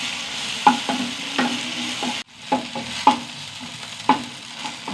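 Okra being sautéed in oil in a pan: a continuous sizzle broken by repeated scraping strokes of a spoon against the pan, close and fairly loud, with no talking.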